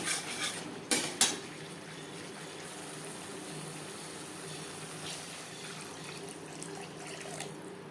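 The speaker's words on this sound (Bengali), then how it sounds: "হাই টু মিডিয়াম ফ্লেমে 1-2 মিনিট নাড়াচাড়া করে নেওয়ার পর দিয়ে দেবো জল।" Tangra fish curry being stirred in a pan over a high flame, with a couple of sharp metallic clinks of a utensil against the pan early on, then a soft continuous sizzle and scraping underneath.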